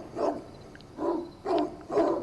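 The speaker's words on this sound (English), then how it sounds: "Really loud barking, you can't see any dogs" Loud dog barking echoes from an unseen house next door on a street in Goosebumps Terror in Little Creek, four heavy barks in a steady rhythm, each followed by a short pause.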